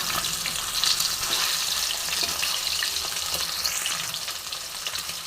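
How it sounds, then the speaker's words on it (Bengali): Pieces of rohu fish sizzle in mustard oil, an even, dense hiss with small pops and a few louder spatters, steady throughout and close by, no talking. "দেখো বন্ধুরা, আমার মাছ ভাজা হয়ে গেছে"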